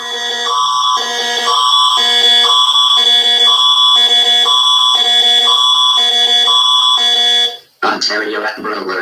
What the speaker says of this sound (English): Ontario Amber Alert. Event type is Amber Alert.